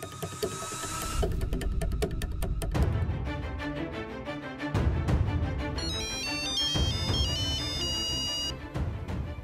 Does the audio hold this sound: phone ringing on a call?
yes